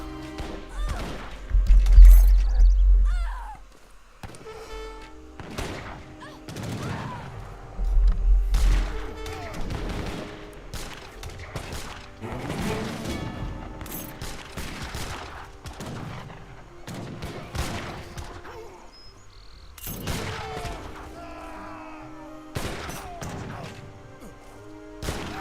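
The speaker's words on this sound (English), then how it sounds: "good bolts from those crossbowmen" Crossbowmen loosing volleys of bolts in an Age of Empires 3 battle, heard as repeated sharp impact cracks and thuds in bursts amid a busy clash of combat noise, with a few louder hits standing out early on.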